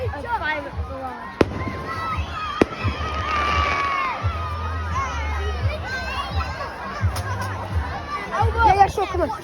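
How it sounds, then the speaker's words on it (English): A bonfire night fireworks barrage outdoors: several sharp distant bangs and crackles over a busy crowd of shouting children and chatter, with people talking throughout. "Stay tuned for a fireworks barrage."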